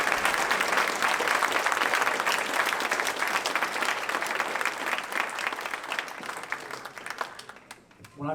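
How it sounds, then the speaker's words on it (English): Sustained audience applause following a jazz concert, a dense wash of clapping hands that holds steady for most of the stretch before tapering off near the end. "So if we could give a big round of applause."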